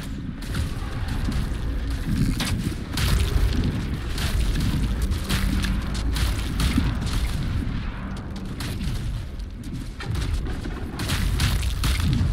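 Explosives going off in Baldur's Gate 3, a continuous rumbling roar of blasts and bursts with crackling debris, loud and sustained with no talk over it.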